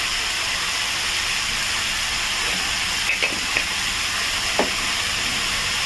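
Ground spices and chilli powder sizzle in a pan of chicken curry, a loud, steady frying hiss throughout, with a few faint clicks of stirring.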